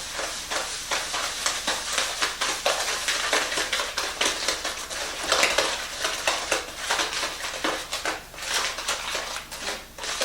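Margarine and sugar creamed by hand in a bowl for a coffee and walnut cake, making a steady run of close, rapid scraping and beating strokes that continue throughout without a break.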